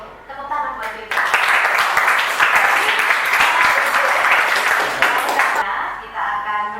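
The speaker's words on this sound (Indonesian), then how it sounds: "Oke, tepuk tangan buat Bebe." Classroom applause for a student, a dense burst of many hands clapping that runs steadily for several seconds before fading, with a voice briefly audible at the start and end.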